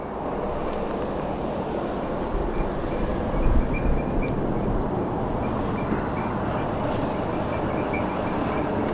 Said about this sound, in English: I think I can hear the police helicopter in the background.